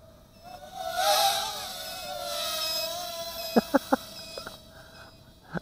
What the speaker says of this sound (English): I'm ignoring that beeper right now.